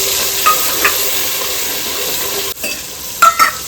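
Masala fries in oil with lightly golden garlic, a continuous close sizzle and hiss broken by a few clinks of a stirring spoon against the pan.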